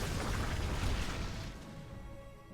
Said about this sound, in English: Storms all over the Corruptors.